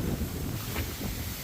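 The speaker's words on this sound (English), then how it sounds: "So nice and windy. Look at the wind." Wind blows by a roadside in the Philippines, buffeting the microphone in a steady, loud rumble with no other distinct sounds.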